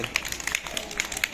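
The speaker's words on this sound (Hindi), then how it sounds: "तालियां बजाओ इसके लिए" Children clap for the winner of a kids' game activity, a brisk, uneven patter of hands with some crowd noise and voices mixed in.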